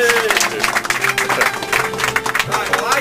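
An audience at an astronomical society's annual general meeting gives a loud, continuous round of applause, with crowd noise and some tonal sound running underneath the clapping.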